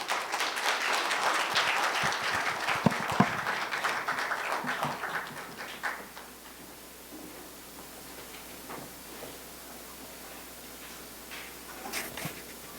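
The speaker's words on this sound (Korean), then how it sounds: "박수로 모시도록 하겠습니다." An audience at a symposium claps in welcome for a keynote speaker, with applause fairly strong for the first several seconds, then thinning out to faint scattered claps in a quiet hall.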